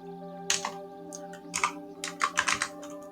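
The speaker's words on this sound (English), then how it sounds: "just go to your terminal and type this command" Keystrokes on a computer keyboard as a command is typed into a terminal, bursts of close, crisp clicks in short uneven runs over a faint steady hum, no talking.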